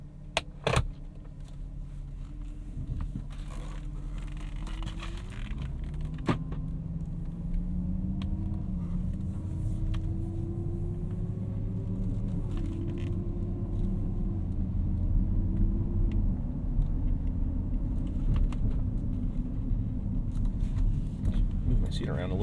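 A 2014 Porsche Cayenne GTS engine starts in normal mode with its exhaust baffles off, then settles into a steady, close rumble as the SUV pulls away and drives, with rising tones under a faint jingle of keys.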